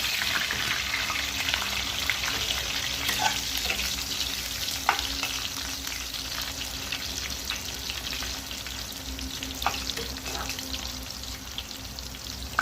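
Pointed gourd (potol) fries in hot oil with a steady, loud crackling sizzle that runs throughout, with scattered sharp pops and spatters.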